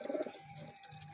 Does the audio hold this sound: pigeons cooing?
yes